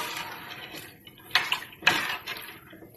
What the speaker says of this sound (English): get back to the noodles and give it a mix